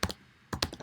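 Keys on a computer keyboard click softly up close: a pair of taps, a brief pause, then a quick cluster of keystrokes.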